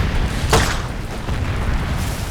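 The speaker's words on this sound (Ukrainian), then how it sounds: "це не кулемет, це прям гранатомет якийсь невеличкий" A small grenade launcher fires in Far Cry 2, one dull muffled boom rising briefly over steady loud background rumble.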